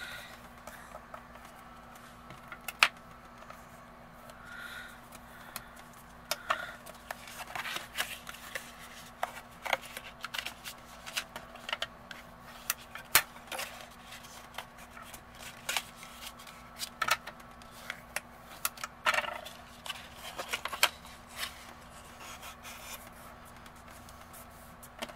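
A tool rubs along quarter-inch score lines on a paper treat box, giving soft, close scraping and rustling strokes with scattered faint clicks throughout.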